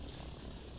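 Helicopter rotor and engine drone from a Line War strategy game match, a steady, faint mechanical whir that holds at an even level throughout, with no voices over it.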